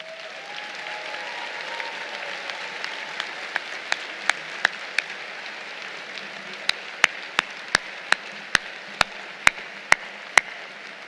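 Applause from a large audience at a Corps of Cadets commencement ceremony for the class of 2023, a broad steady clapping wash punctuated by sharp, loud individual claps near the microphone that grow more regular toward the end.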